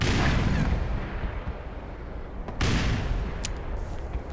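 A grenade blows up in the game Black Mesa, giving a loud, rumbling boom at the start that rolls into a long roar, then a second heavy blast bursts in midway and decays again, with no talk over it.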